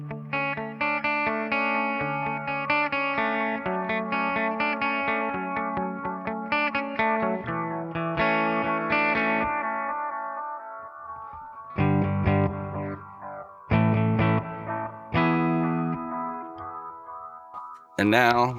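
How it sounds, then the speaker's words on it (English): Electric guitar played through an effects chain with modulation and reverb switched back on, sustained chords and single notes ringing with a washy tail, then sharper stabbed chords with short pauses, loud and close. "Then put your reverb back on."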